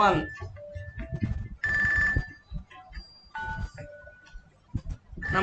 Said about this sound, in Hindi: हम एक फोन अटेंड कर लो।